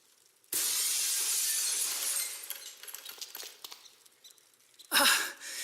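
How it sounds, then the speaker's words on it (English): Glass shatters in the video game Dead Synchronicity, muffled by a seat cover: a sudden crash gives way to a long, fading wash of tinkling shards, followed by a second sharp burst near the end. "let's cross our fingers that the seat cover absorbs the noise of the breaking glass"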